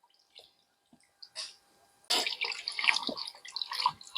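Water poured over aloe vera leaves to rinse off dust and yellow sap, a few light drips and splashes at first, then a steady, fairly close splashing stream in the second half.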